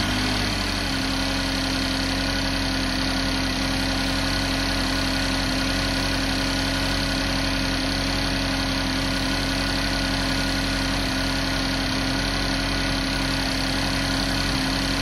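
A car engine runs at a steady idle after starting, a continuous even hum and vibration that holds unchanged for the whole stretch.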